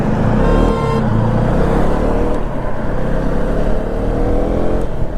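Large vehicles pass on a road through a forest during a long-distance motorcycle ride, producing a loud, continuous engine roar with rising and falling tones that stays close throughout.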